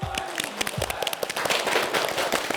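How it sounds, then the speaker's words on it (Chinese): Audience clapping at a televised traditional Chinese medicine apprenticeship show welcoming family and friends, building into dense applause, with a voice heard briefly at the start. "我们也要用掌声欢迎今天到场的各位亲人朋友"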